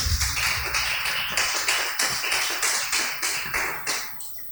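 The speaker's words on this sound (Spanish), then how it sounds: "Dele palmas al Señor en el nombre de Jesús." A church congregation claps for the Lord in a steady, even rhythm of sharp, bright hand claps repeating roughly three times a second, moderately loud over a faint low hum.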